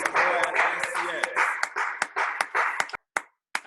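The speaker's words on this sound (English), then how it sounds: "let's clap it up for Sarah for giving us a yes." An audience claps at a distributor training event, a bright patter of hands with individual claps standing out over a voice speaking, fading to a few scattered claps and brief silence near the end.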